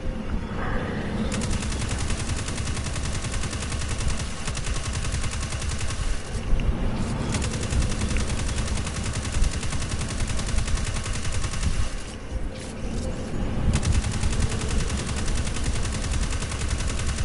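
Dense, rapid gunfire in the video game Destiny 2 is reportedly from a hand cannon. Loud overlapping shots and combat noise run almost nonstop, with a few brief lulls.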